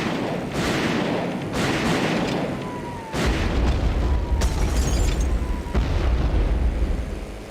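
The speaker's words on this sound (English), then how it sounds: "And they are still shooting at me." Enemy fire and explosions in the Airfix Dogfighter aircraft combat game: repeated booming blasts and rapid shots rolling over a steady engine drone, loud throughout with a heavier thump midway.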